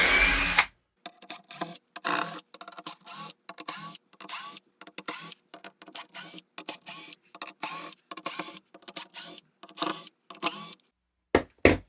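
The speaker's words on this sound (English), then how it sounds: "So now what we got to do is take out all the screws." A power drill backs screws out of a guitar speaker cabinet in a long series of short, close whirring bursts separated by brief pauses, clear and alone with no talk.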